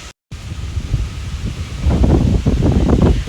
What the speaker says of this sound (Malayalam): നല്ല കാറ്റ് അടിപൊളി കാറ്റ്